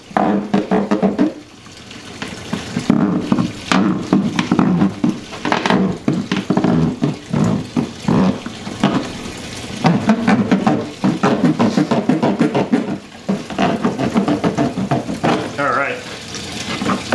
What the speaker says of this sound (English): You hear it starting to shut off as the valve's getting closer to closing.